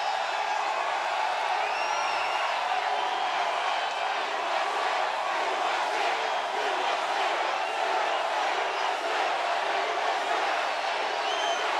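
A large rally crowd for Trump roars and cheers steadily, a dense sustained wash of voices with scattered whoops rising above it.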